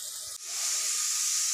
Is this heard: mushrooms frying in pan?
yes